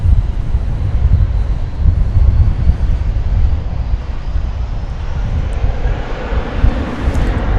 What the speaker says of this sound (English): There goes American Flight 1220, no, Flight 520, I think.